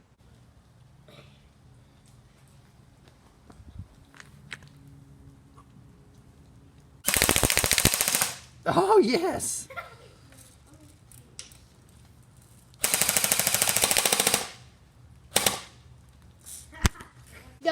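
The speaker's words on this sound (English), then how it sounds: "Got some pretty good damage here from the airsoft gun." An airsoft gun fires at a target made of candy and Rice Krispies. Several loud, harsh bursts of shooting stand out against a quiet background, with a few sharp single pops afterward. A voice calls out briefly.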